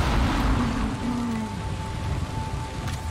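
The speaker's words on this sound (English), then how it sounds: "Back at the main village, it's raining." Rain falls steadily in the video game Valheim, a dense, even hiss that holds constant throughout, with a faint low rumble underneath and no speech.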